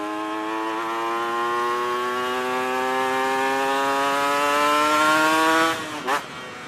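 A motorcycle fitted with a big-volume exhaust and a large carburetor idles and rises slowly at low revs, giving a steady, loud, close buzzing drone that climbs gradually before a brief sputtering dip near the end.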